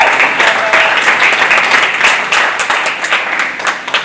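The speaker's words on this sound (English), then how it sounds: "I think everyone should generally applaud this young one." An audience at a student plastic-awareness challenge finale applauds a young student, a dense, steady wash of many hands clapping close by for the full few seconds without pause.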